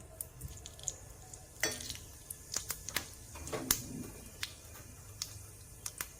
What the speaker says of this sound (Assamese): ইয়াতে পাঁচফোৰণ কেইটামান মই ফুটাই ল'ম। এয়া পাঁচফোৰণ ফুটাইছোঁ।